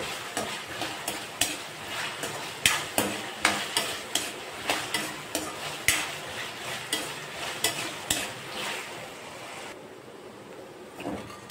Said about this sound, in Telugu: వచ్చేంత వరకు వేయించుకుంటూ ఉండాలి, లైట్గా కలుపుతూ ఉండాలి.